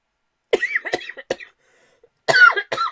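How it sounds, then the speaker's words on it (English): Several sharp, close coughs land right on the microphone, three quick ones in a cluster, a brief silence, then two more harsh bursts, loud against a quiet background. "I want to cough real loud into the mic."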